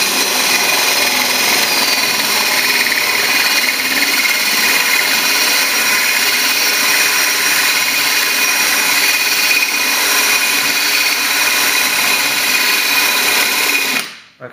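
A power drill bores a hole into a Pyrex glass dish, whining steadily and continuously at close range with grinding undertones before cutting off abruptly at the end.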